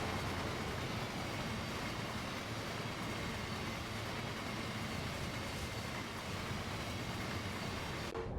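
A DB Traffic Red Vectron electric locomotive hauling a train in Train Sim World 4, a dense continuous rumble and rolling rail noise that holds steady throughout, with no voices.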